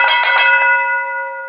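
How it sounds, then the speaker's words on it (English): A single bell strikes loudly and clearly as a cue to change topics on a talk show, its bright metallic ring sustaining and slowly fading with no talk over it. "The dads will keep on talking until the bell rings."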